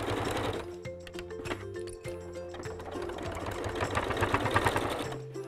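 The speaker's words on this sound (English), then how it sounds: "And then I can machine sew that binding in place." A domestic sewing machine stitches binding onto a triangular fabric pouch in close, loud bursts of rapid whirring and clicking, pausing briefly between runs.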